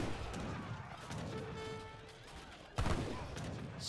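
Heavy cannons and warships fire in an Age of Empires III battle, sounding as muffled booming and crackling over a busy noise bed. A loud, sudden blast lands near the end.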